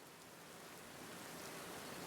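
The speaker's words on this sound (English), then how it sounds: "It's raining, but lucky us, we have everyone inside now." Rain falling in the video game Sapiens, a soft, steady hiss of rainfall that stays faint and even throughout.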